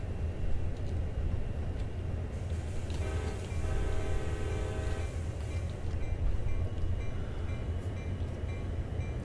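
An SD40-2 diesel locomotive runs in a train video game, its steady low engine rumble continuous throughout, with a sustained horn-like tone sounding for a couple of seconds midway and no talking.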